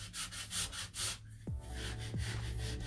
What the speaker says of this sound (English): I'm gonna use my sandpaper again here on this edge and on this edge to clean that